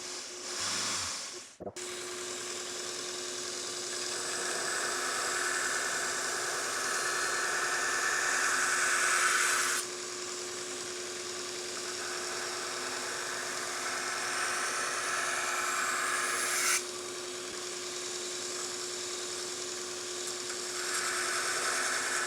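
A belt grinder with a radius platen grinds a chef knife blade, a continuous high abrasive whine over a steady motor hum, with the tone shifting as passes change, no talking.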